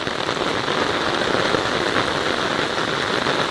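Heavy monsoon rain pours down in Mahabaleshwar near a parked car, a loud, dense, unbroken hiss of drops hitting surfaces that holds steady throughout.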